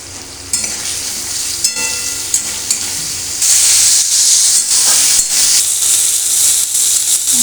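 Potatoes going into hot oil with ground spice, ginger, onion and garlic paste, bringing a few sharp clatters and stirs, then a louder, fuller sizzle that holds steady to the end.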